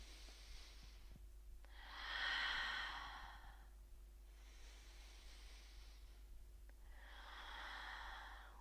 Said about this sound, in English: 3 full rounds of breath here.